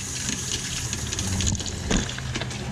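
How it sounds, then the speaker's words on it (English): Hot water runs from the tap of a 2013 Camplite Livin' Lite 16TBS camper trailer, a steady close hiss of flowing water for a few seconds. "That, ladies and gentlemen, is hot water."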